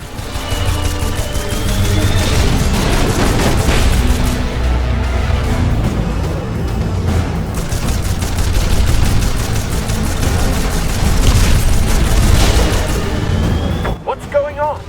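Turret gunfire rages through a battle in a Jak and Daxter game, dense rapid bursts and booms layered continuously and loudly, with voices talking over the action.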